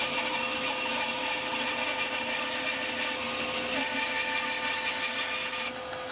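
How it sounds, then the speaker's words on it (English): A bandsaw runs steadily while cutting a wooden electric guitar neck to length, giving a continuous close whine with a sustained tone that holds loud and even throughout. "So the first thing I want to do is cut the neck to the length, and I'm going to do that on the bandsaw."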